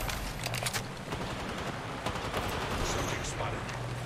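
Gunfire in the Apex Legends battle royale on the World's Edge map, with rapid, fairly faint shots crackling steadily under a player's voice.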